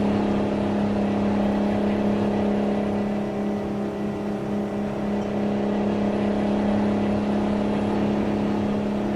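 Truck engine in American Truck Simulator, driven while pulling a trailer of tires: a steady, droning hum with a strong low tone holds evenly at close range, with no voices.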